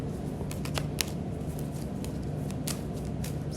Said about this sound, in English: Hard to shuffle when they're this small.